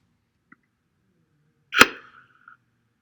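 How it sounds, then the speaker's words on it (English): A single sharp crack of a bat striking a ball, brief and bright with a short ringing tail, alone in near silence. "we hear the sound when we see the baseball making contact with the bat"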